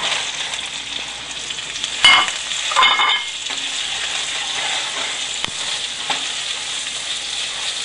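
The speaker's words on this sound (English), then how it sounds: "Just stir for a few seconds and add the okra." Okra frying with hing and cumin seeds in hot oil, a continuous sizzle with a few brief stirring scrapes near the start.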